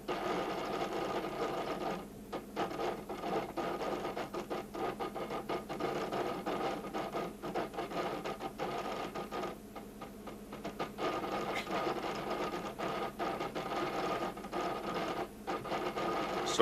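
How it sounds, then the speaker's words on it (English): Stepper motors in a decades-old maze-solving machine, moving a camera around and tilting the maze, whir and chatter steadily without pause, near and fairly loud, with brief gaps and changes in pitch as the motors shift. "one controlling the stepping motors to move the camera around, and another to control the tilting of the maze"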